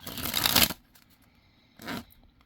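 Two bursts of card shuffling: a long riffling flutter, a pause, then a shorter riffle, close and crisp with no talking.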